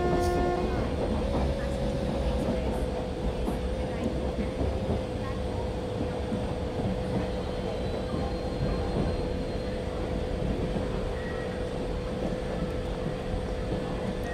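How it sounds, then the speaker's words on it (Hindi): Karnataka Express train arriving at a station, a steady loud rumble with a faint horn-like tone that holds throughout, under continuous crowd noise and announcements. "हमारा पहला अराइवल हो रहा है वो फ्लैबे वाली कुछ से और कर्नाटक एक्सप्रेस।"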